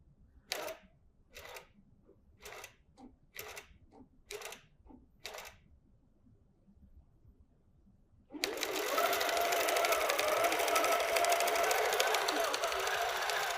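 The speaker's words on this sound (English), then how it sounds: "now it's going to stitch that design that we placed within those markings" A QCT6 Plus quilting machine stitches a design: a series of short, sharp mechanical bursts gives way to a loud, steady, close-up stitching whir that runs unbroken to the end.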